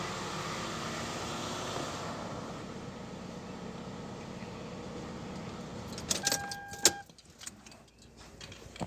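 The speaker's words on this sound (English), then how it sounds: "we're going to shut off the car here." A car that had been running during a transmission fluid dipstick check is shut off: its steady engine hum fades out, followed by a few close jingles and clicks of keys.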